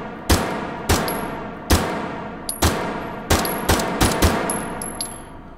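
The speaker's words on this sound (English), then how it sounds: "Take some shots." A shotgun fires in the H3VR virtual reality game, about eight sharp, loud reports spaced unevenly over several seconds, each followed by a short decay and some faint mechanical clicks.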